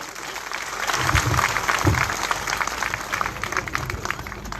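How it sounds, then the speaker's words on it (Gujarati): A crowd at a community gathering bursts into loud, sustained applause, many hands clapping together in a dense, continuous patter, with a voice heard briefly among the clapping. "એકવાર જોરદાર તાળીઓ પાડી"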